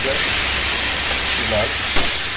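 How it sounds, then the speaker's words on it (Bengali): Onion and tomato frying together in a hot wok while being stirred, giving a steady broad sizzle with a faint scrape of the spatula near the end. "এবার এটাকে একটু নাড়ানাড়ি করব যাতে লাল হয়ে যায়।"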